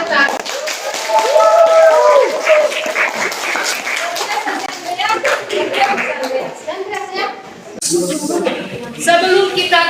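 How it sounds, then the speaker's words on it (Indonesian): Scattered clapping from a classroom of schoolchildren, uneven and fairly loud, with children's voices and a teacher talking over and between the claps. "berikan dulu tepuk tangan"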